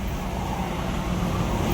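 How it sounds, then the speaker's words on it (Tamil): Dense road traffic noise, a steady low rumble of cars, buses and trucks, continuous and close, queued on the highway approaching the Chengalpattu toll gate in Tamil Nadu. "பயங்கர டிராஃபிக்காக இருக்கு."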